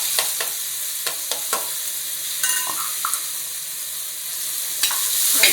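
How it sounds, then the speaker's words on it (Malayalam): Pieces of ash gourd fry in ghee in a pan, a steady soft sizzle punctuated by light clicks of a spoon stirring, close up, with no talking. "ഇതിലേക്ക് നമ്മൾ ഇതേ നെയ്യിലേക്ക് തന്നെ നമ്മുടെ കുമ്പളങ്ങ ഇടുകയാണ്"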